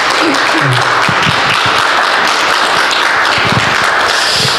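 A church congregation applauds during a Sunday service as the visiting pastor comes forward, steady loud clapping filling the room, with a few low voices murmuring underneath.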